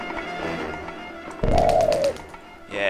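A pigeon in the video game Jazzpunk lets out a single loud, close coo in the middle, with softer game ambience around it and no speech.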